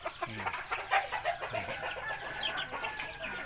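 Twelve young cockerels cluck and peep softly in overlapping bursts, close by, with a busy flock chattering steadily throughout.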